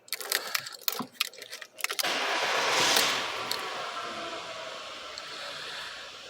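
A few clicks and rattles, then a car engine cranks and catches after an electrical fault is fixed, settling into a steady close idle.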